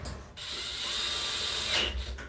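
Screws tightened on the terminal block of a dryer power cord: a faint, steady mechanical ratcheting whir for about two seconds, close by and without talk.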